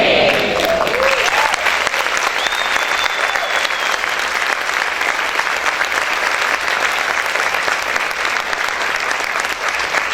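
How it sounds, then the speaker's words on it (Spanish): A large church audience applauds during a sermon, with loud dense clapping that holds steady and continuous across the whole stretch, plus a faint raised voice or whistle rising above it early on. "Este aplauso es para el Señor"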